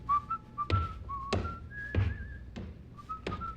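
A man whistles a wandering tune in short phrases at a claim counter, with a few sharp thunks like a bag or counter being knocked punctuating the melody.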